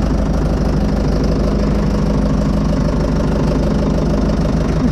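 A Fordson Major diesel tractor engine running at idle, a steady, loud, close low knocking rumble that holds unchanged throughout with no talking.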